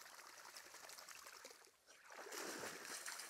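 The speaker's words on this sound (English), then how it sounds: "You can hear the water running" Water from a spring-fed creek on a 40-acre farm trickles and splashes quietly in a calm wooded spot, with a soft, steady flow that swells a little louder toward the end.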